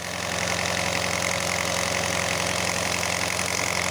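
An Alfa Romeo 156 Twin Spark engine idles roughly with a steady, continuous drone and hum, heard up close and alone.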